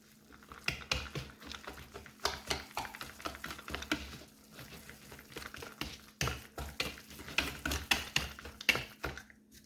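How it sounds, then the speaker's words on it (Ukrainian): Sifted flour being stirred into a dough mixture in a bowl, giving a steady run of soft scraping and tapping strokes at close range, with no voices. "Трішки борошна залишаю, а решта перемішую."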